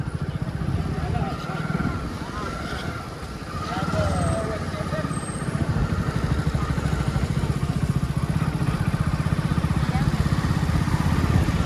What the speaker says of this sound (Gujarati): બાઈક આવી ગયું છે.